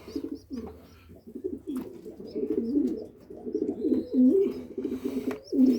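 Homing and tumbler pigeons coo inside a coop, with soft, repeated, throaty rolling calls from several birds overlapping at close range. Faint chirps sound in the background.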